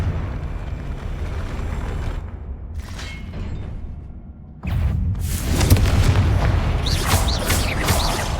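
Confringo fire spell explosion in the video game Hogwarts Legacy, a loud rumbling blast with crackling bursts, a brief lull, then a renewed roaring detonation with sharp fiery crackles.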